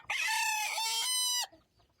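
A young rooster crows one long, loud, harmonic call lasting over a second, near and alone, then falls silent with a faint low cluck.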